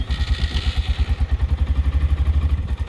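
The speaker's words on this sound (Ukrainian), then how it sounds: "Так, двигун у нас прогрітий. Сідаємо, значить, запускаємо." A warmed-up carburetted Linhai 300 ATV engine thumps in a steady, fast low-pitched chug, with a faint mechanical clatter on top, heard up close with no talking.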